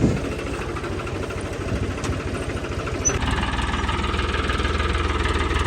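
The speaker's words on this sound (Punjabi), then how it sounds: "ਹੁਣ ਟਰੈਕਟਰ ਚੱਲੀ ਜਾਊਗਾ" A tractor engine runs steadily at slow throttle in an open field, a close, continuous low rumble with fast knocking pulses that grows slightly louder partway through.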